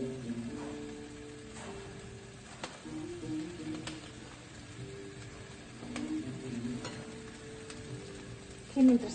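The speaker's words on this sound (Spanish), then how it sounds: "mientras se fríen los chiles" Chiles frying in a pan for tomatillo salsa, a soft, continuous sizzle with faint stirring scrapes, fairly quiet and without speech.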